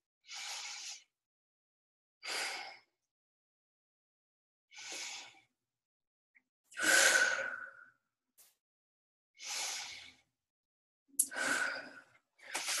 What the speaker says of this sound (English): But that is deep belly breathing.